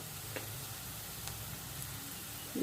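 A pinch of asafoetida (hing) drops into hot oil while tempering spices for Bihari-style matar ghugni, giving a faint, steady sizzle that hisses evenly throughout with no voices.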